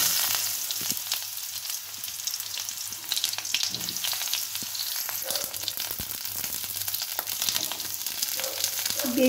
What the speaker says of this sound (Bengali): তার মধ্যে আমি দিয়ে দেব কালো জিরে আর সাথে শুকনো লঙ্কা